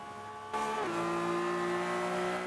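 A tuned Lamborghini Aventador or BMW M3 drift car in Forza Horizon 5 drones at a steady high engine pitch, dropping a gear-shift step partway, with a sustained tire squeal heard from an outside view.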